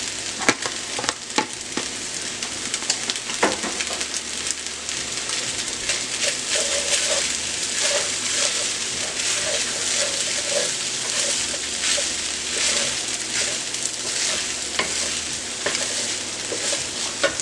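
An egg frying in a hot wok for shrimp fried rice, giving a steady loud sizzle with intermittent stirring scrapes and clanks throughout.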